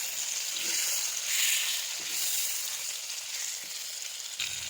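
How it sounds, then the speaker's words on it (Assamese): Steady, close sizzling of three fish frying in hot oil, a continuous crackling hiss with slight swells, no voices. "এতিয়া মই মাছকেইটা ভালদৰে ভাজি ল'ম"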